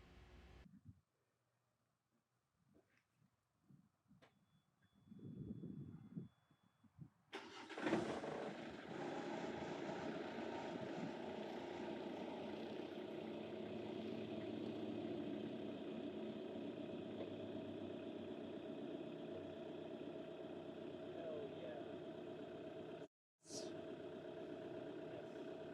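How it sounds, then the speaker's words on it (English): An excavator engine cranks and catches after a few quiet knocks and clatters, then settles into a loud, steady diesel idle with a short cut near the end. "I then go and get the excavator started up"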